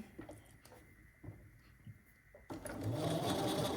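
A sewing machine set to a shorter stitch length starts up after a few quiet clicks and handling sounds, then runs in a steady, close whir through the final second or so without talk.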